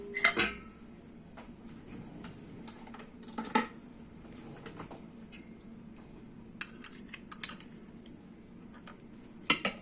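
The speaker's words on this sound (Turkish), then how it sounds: "Küçük kaşıkla akıtayım." A small spoon works apricot jam into a glass jar, making sparse, sharp clinks and taps against the glass with quiet gaps between them.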